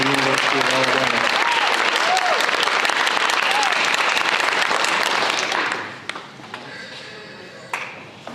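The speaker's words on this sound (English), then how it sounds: "Another round of applause for Miss Autumn Headrick going to the University of Alabama." Applause fills a high school signing-day ceremony, with a dense, loud, sustained wash of crowd clapping that ends abruptly and leaves a few scattered claps, while a voice carries on faintly through the noise.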